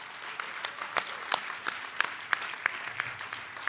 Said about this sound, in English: Let's give State Street and Bank of America a round of applause.